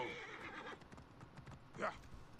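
A horse whinnies briefly nearby, a short rising neigh, alongside soft hoof clops and shuffling, with a voice speaking quietly.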